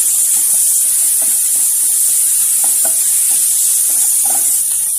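Masala with spice powders and salt is stirred in a pan, making a steady hissing sizzle with soft, repeated scraping strokes and no speech.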